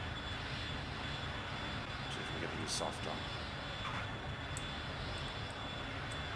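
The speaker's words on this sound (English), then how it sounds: "Can't seem to slow the engines down any more than this." Dassault Dornier Alpha Jet engines in a flight simulator game, a steady broadband jet roar held at low throttle throughout, with a person talking over it.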